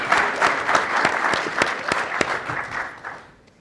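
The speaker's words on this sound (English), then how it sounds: "Please give them all a round of applause." An audience at a panel event on property tax relief claps in a dense burst of applause that builds quickly, then fades away near the end.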